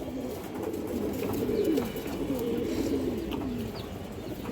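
A breeding pair of pigeons at a home loft in Bangladesh gives steady, low, rolling coos that overlap through the whole stretch, close by, over a faint background murmur.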